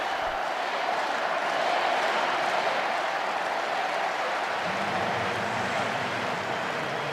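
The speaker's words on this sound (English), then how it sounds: "Listen to the crowd." A packed stadium crowd at the 2013 World Athletics Championships roars and applauds during an athlete's world record attempt, a broad, sustained wash of distant cheering that holds steady, with a low hum entering near the end.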